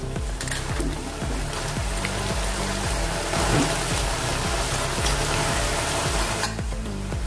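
Eggplant tipped into a hot pan of half-cooked potatoes, with a loud, continuous sizzle and frying crackle and a few stirring knocks, close up and with no talk.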